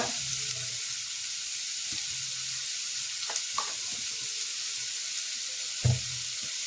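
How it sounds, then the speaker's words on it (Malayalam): Coconut oil hisses in a pan previously used for frying prawns, a constant bright sizzle with a few faint clinks and taps. "വെളിച്ചെണ്ണ ഒഴിക്കുക"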